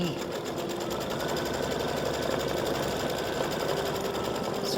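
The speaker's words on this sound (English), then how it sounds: "I'm just going to leave that gold thread in there and stitch color stop number 11" An embroidery machine stitching gold thread on a mug rug, a steady rapid mechanical chatter and hum that runs without a break throughout, close and moderately loud.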